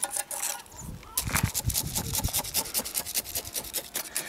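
Stick poking and scraping through the soil of a large ficus retusa bonsai during transplanting, giving repeated dry gritty rasps and rubs up close, steady with small bursts, and no talking.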